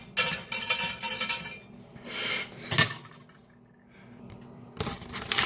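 A metal whisk clinking and scraping against a bowl in a home kitchen, bright rattling bursts separated by quieter pauses, close and fairly faint.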